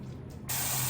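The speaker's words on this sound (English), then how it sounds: "give the wig one more really good rinse, making sure we've gotten all the conditioner out" Tap water running over a wig during a final rinse to clear out conditioner, a steady broadband spray that starts softer and becomes a louder, fuller rush partway through.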